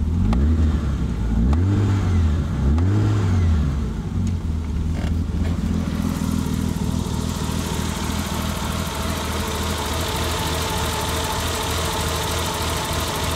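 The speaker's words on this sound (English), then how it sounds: "I'm gonna rev it just for you to hear it" A BMW E34 car engine revs up and down in repeated swells, then settles into a steady, rough-sounding run, close by with no talking.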